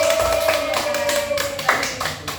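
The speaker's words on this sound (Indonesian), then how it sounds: "Kita beri tepuk tangan terlebih dahulu." A classroom gives a brief round of applause, a quick scatter of claps over roughly two seconds with a steady tone and light chatter underneath.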